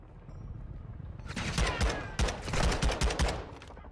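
Gunfire in the Call of Duty Modern Warfare 2 video game: after a quiet start, loud bursts of rapid shots crack repeatedly in clusters, close and dense, with no talking.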